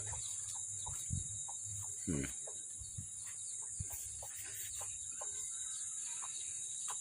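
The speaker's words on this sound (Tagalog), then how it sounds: "At mga alagang manok lang ang maingay." Chickens cluck now and then against a constant high drone of insects, with scattered bird calls in a quiet outdoor setting.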